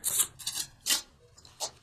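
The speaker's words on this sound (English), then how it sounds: "Okay, keep shuffling." Tarot cards shuffled by hand in several short rasping swishes with brief gaps between, close and clear with no voice.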